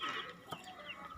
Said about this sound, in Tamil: இங்கே கோழி வளர்த்துறாங்க.